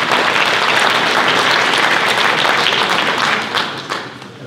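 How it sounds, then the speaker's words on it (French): Loud, dense applause from a round-table audience at an agricultural drone event, sustained clapping close by that thins and tapers off over the final second. "on peut les applaudir là quand même"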